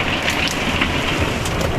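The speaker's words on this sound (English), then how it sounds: "With those hailstones. They're thunder hailstones." Hailstones pelt down in a thunderstorm in the Cairngorms, Scotland, a dense, loud, unbroken patter drumming on surfaces close by.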